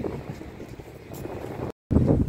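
Low rumbling wind buffets the microphone in steady gusts, with a brief silent gap before the blustering resumes loudly.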